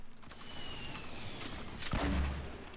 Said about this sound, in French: Ça tire à droite, à gauche aussi, à ma gauche.